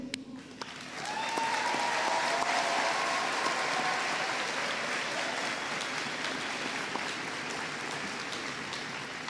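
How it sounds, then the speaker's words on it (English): A graduation audience, standing, applauds families with a loud, sustained wash of clapping that builds after a second and keeps going evenly, with a faint whistle or cheer early on. "Please give a loud round of applause to all our hardworking and amazing families"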